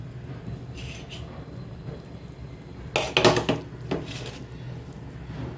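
Fish and raw mango pieces go into a pot of spicy fish kulambu curry, giving a short cluster of clattering, splashy knocks against the pot after a quiet simmer.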